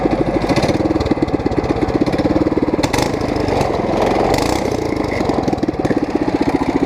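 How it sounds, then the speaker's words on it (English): A small go-kart engine with no chain fitted runs loud and close, its rapid steady firing pulses rising briefly as it is revved, with a torque converter attached. "we'll rev it up a little and just see how it sounds"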